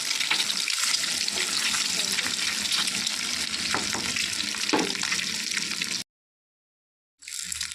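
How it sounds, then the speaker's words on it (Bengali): An egg dish fries in a pan with a dense, even sizzle close by, punctuated by a few soft stirring knocks, before cutting to a second of silence and then resuming. "এক পাশ ভালো করে ভাজা হয়ে গেলে তারপর এটাকে উল্টে দিতে হবে"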